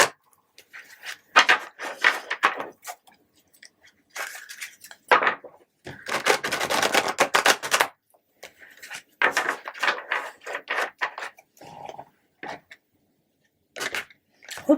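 Crisp rustling and riffling of tarot cards being shuffled, repeated in uneven bursts with short pauses, up close and fairly soft.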